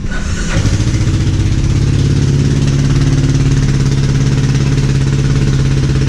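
A Kymco Xciting 500 scooter, a non-running project bike, fires up and settles into a steady idle, its engine loud and close with a continuous low rumble and no talking.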